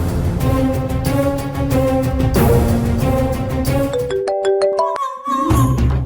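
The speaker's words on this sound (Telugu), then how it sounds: "అర్చనకి ఫోన్ చేయడం ముఖ్యం." A bright, melodic ringtone plays loudly and continuously, looping its tune, ending with a run of rising electronic tones.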